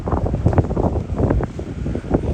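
Gusty wind buffets a microphone outdoors at a metro station construction site, a steady low rumble with surging puffs, loud and close throughout with no voices.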